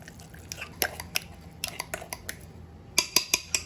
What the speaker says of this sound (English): my cream cheese is pretty soft, so I'm just going to mix it by hand